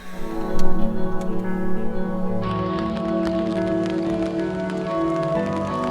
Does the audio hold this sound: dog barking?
no